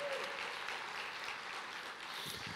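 Congregation applause in a church, a thick, even roar of many hands clapping at a steady level for the whole stretch, with no speech over it.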